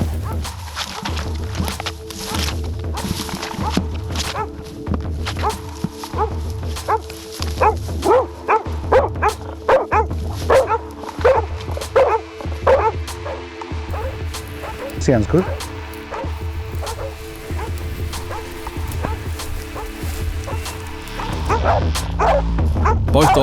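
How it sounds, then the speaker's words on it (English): Dogs bark repeatedly in irregular bursts at a bailed pig during a pig hunt, with yips and whimpers, while someone speaks briefly nearby. "Both dogs are doing a great job of bailing the pig, barking at it to hold it in position"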